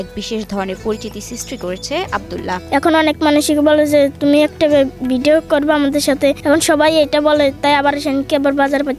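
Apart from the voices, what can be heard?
No everyday noises stand out.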